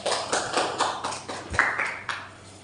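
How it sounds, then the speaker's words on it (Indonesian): Short, rhythmic clapping in a classroom after a micro-teaching group presentation: a handful of crisp, evenly spaced claps that taper off within a few seconds. "Kan bisa beri aplaus"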